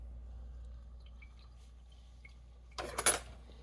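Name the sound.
spoon clinking against a pot while tasting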